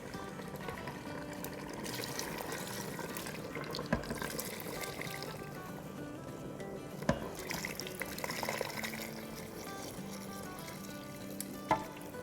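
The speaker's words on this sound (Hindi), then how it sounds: "चार कप पानी डाल दिया" Warm water, four cups of it, is poured into an Instant Pot over browned paya and masala, a quiet continuous splashing and trickle with a few soft clinks along the way.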